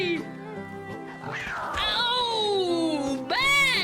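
A cat meows loudly and insistently in long, drawn-out caterwauling cries with a rising final yowl, close to the microphone, with some voice in the background.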